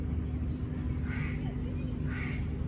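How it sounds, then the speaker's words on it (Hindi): A crow cawing outdoors, two clear caws about a second apart over a steady background hum. "ये कौवा मुसलसल कुछ ना कुछ मुंह में लिए उड़ी जा रहा है"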